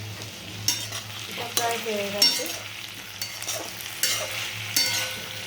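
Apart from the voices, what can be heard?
vegetables with ginger and garlic stir-fried in a wok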